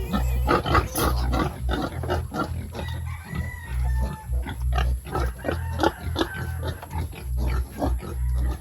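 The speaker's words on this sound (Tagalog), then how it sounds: "So, ayun po yung mga biik." Native pigs and a litter of piglets grunting and squealing close by, dense overlapping snorts in constant rhythm, loud, with roosters and hens crowing and clucking in the background.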